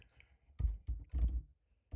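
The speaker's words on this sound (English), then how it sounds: "It's a very comfortable keyboard. I enjoy the way it feels when I'm typing." Keys clack on the keyboard of a 2025 M4 MacBook Air in a few quiet, irregular clusters of soft, close taps separated by brief silences.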